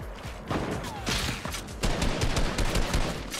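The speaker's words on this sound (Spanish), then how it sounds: "también un montón de tiros" Dense video-game gunfire from a Fortnite Battle Royale match: rapid overlapping shots and bursts crackle steadily throughout, loud and close, with no talk over them.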